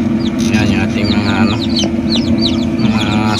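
Many high, rapid peeps from a group of newly hatched chicks, overlapping continuously above a steady low hum.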